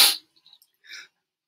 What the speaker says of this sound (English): Sorry, sneeze coming.